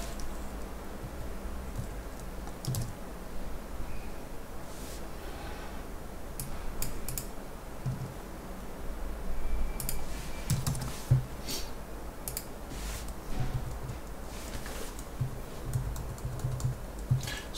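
Keyboard typing and clicking while using the text tool in Premiere Pro, scattered soft key taps and clicks in uneven bursts over a faint steady background hiss.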